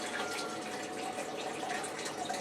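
Water gushes steadily from a battery-powered sump pump used in a homemade blue bowl gold prospecting setup, a close, continuous splashing flow without pauses.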